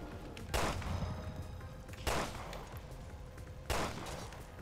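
Gunshots in Resident Evil Revelations 2 raid mode: three separate sharp shots, evenly spaced and fairly quiet, over a steady rumbling game background.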